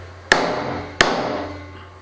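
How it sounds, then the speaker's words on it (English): A big lump hammer strikes a metal punch twice, two sharp ringing clanks about 0.7 seconds apart, close and loud, each with a short decaying ring. "Might get a bit noisy with a big lump hammer."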